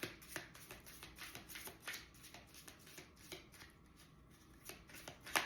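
Tarot cards being shuffled by hand, a steady run of soft riffling and slapping bursts close up, fairly quiet, with no talking.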